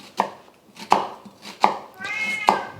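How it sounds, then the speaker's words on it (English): Half an onion being chopped with a knife on a cutting board, four sharp, evenly spaced chops close up, with a cat's meow heard faintly between them. "I have half an onion that I'm just gonna chop up."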